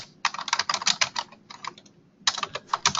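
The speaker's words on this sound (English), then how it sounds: "I would just type my message here" Quick, clicky typing on a computer keyboard as a message is written, with bursts of keystrokes split by a few short pauses, close and clear with no speech.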